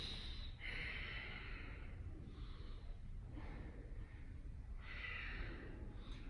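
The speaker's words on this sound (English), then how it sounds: "Breathe." Deep, slow breaths during a yoga warrior pose, with three or four long inhale-exhale cycles that rise and fall steadily over a low, constant room hum.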